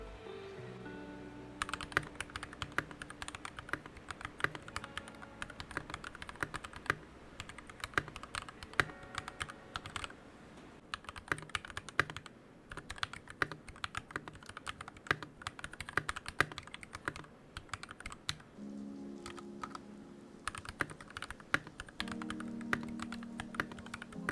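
Continuous fast typing on a clacky mechanical keyboard, crisp close keystrokes in a steady rapid stream with occasional heavier thocks, no speech.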